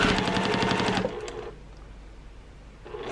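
Sewing machine stitching binding onto a sampler quilt, a loud close steady whir of rapid stitches for about a second, then stopping into quiet room noise before briefly starting again at the end.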